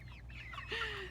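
Heritage chickens clucking and squawking briefly as roosters are caught, a few quick agitated calls, faint and close, with no talk.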